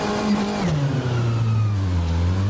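A BMW M8 race car in rFactor 2 at Fuji Speedway, its engine droning loud and close, the pitch sliding down through a gear change and settling into a steady low roar.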